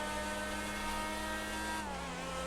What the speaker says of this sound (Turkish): Motor sesini duyuyor musunuz? Motor sesine bak ya.